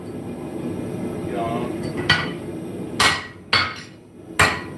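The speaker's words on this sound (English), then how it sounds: "Use the heel of the hammer to draw down the stick a little bit." A smithing hammer drawing down steel stock with its heel: four sharp, ringing metallic strikes spaced irregularly over steady background noise, growing louder and more forceful toward the end.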